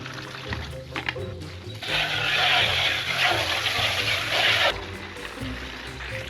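Water poured into a small chicken waterer, a steady broadband rush of liquid filling the container for about three seconds, close and fairly loud, with faint background noise before and after.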